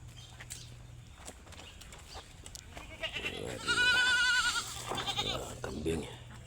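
On a farm with vegetable plots, a goat gives a loud, wavering bleat up close that lasts about a second, with a few fainter bleats after it over a background of rustling and movement.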